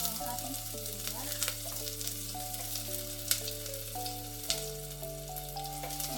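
Onion sautéing in a pan for arroz valenciana, with a bright crackling sizzle and stirring clatter over a steady low hum, a couple of sharp utensil knocks standing out.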